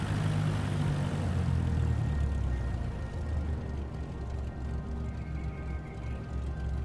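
A Cessna light propeller aircraft engine drones steadily while taxiing in Microsoft Flight Simulator 2024, a constant low rumbling hum that eases slightly in pitch and level midway.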